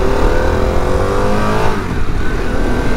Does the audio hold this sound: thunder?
no